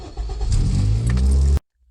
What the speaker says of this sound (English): But let's turn on the car.